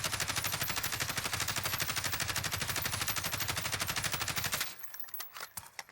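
Kilo 141 assault rifle in the game Warzone fires one long sustained automatic burst at a steady, rapid rhythm, loud and close, before cutting off into a brief reload clatter.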